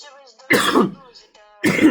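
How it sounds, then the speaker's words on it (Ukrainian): Two sharp, rough coughs from a nearby person, separated by a pause, with faint tonal background sound between them. "І це кашель, це ж не розмова"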